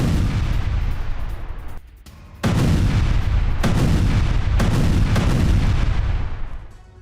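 Heavy booms and artillery fire from a Ukrainian attack on a Russian tank near Volodar, loud and continuous blasts with several sharp onsets, a brief lull after the first, then renewed rumbling detonations that fade at the end.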